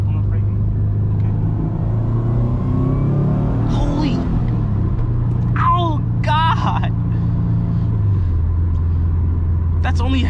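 A 2006 Subaru WRX with a JDM engine swap and 4.44 gearing revs at half throttle, a loud rising engine drone with lower steady rumble, while a person exclaims over it from inside the car.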